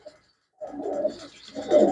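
Pigeons coo close by in two soft, throaty bursts separated by a short pause.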